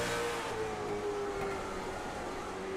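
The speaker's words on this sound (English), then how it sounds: "Listen to these cars." Race cars accelerating at Hickory Motor Speedway during a Fastenal Winter Series event, a steady mid-pitched engine drone with one rising tone, fairly distant and continuous.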